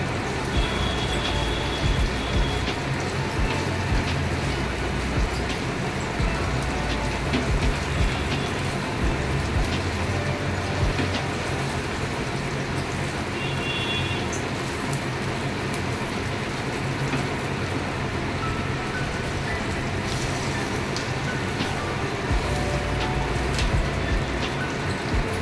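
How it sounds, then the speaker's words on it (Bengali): Onions frying and being stirred in a pan for paneer butter masala, a steady dense sizzle running unbroken and fairly loud throughout, with faint scraping touches and no talk. "পেঁয়াজটা এবারে নাড়াচাড়া করব"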